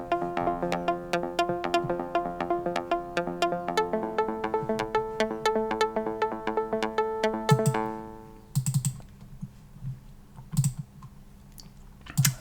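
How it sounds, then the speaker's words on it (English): Synth arp lead built from a simple saw wave through Omnisphere, rapid repeating plucky notes following the bass line in a steady ticking pattern, later thinning to a few sparse low hits and bright bursts. "the next thing I've got going on here is the ARP lead"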